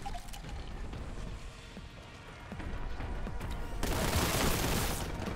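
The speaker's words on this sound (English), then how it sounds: "a Space Marine should have no problems dual-wielding shotguns" Heavy shotgun blasts from Space Marine shotguns in the retro shooter Warhammer: Boltgun, booming in a dense, continuous barrage that swells louder toward the end amid rumbling game noise.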